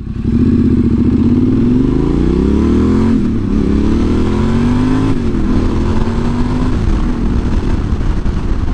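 Yamaha Tenere 700 motorcycle with a modified stock exhaust revving up and down close by, loud and continuous, its engine pitch rising and falling through several throttle blips.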